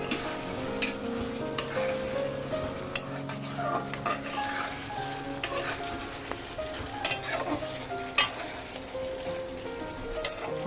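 Ivy gourd masala stir-fried with a spoonful of ghee in a pan, steady frying sizzle with frequent close scrapes and clinks of a spatula against the pan, no talking.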